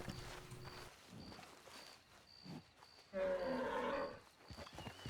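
An ox in the video game Red Dead Redemption 2 gives a loud, drawn-out moo that swells suddenly midway and holds for about a second, amid quieter game ambience and earlier low animal sounds.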